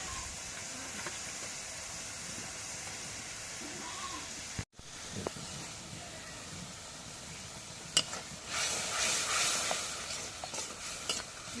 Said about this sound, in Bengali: এখন মশলাটা একটু কষাই নেই।